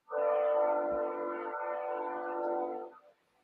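A train passes close by, its horn blaring in a loud, sustained blast of about three seconds with the rumble of the cars beneath, then cutting off abruptly.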